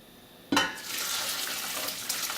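Water is poured into a pot in a steady, close splashing stream that starts abruptly and keeps going with no talking.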